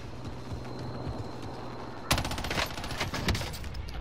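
A precision airstrike lands in Call of Duty: Warzone: after a quiet stretch, a sudden loud burst of rapid explosive cracks and rumbles erupts midway, then keeps pounding in dense, uneven volleys until the end.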